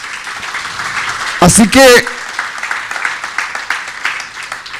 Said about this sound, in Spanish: Le damos otro aplauso a nuestro Señor.